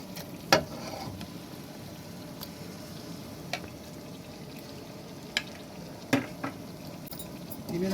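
Chicken and potato curry with a few spoonfuls of yogurt is stir-fried in a pan: a low, steady sizzle broken by several sharp spoon scrapes and knocks against the pot.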